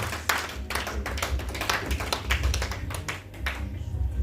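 Church congregation clapping in acclamation of Jesus during a worship service, a steady run of sharp, close hand claps and taps at an even rhythm throughout, with no talking over it.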